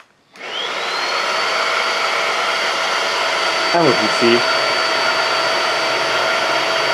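A eufy HomeVac S11 Lite cordless vacuum runs steadily on its trigger, a loud, constant high-pitched whine and airy rush close by, while a person speaks briefly over it.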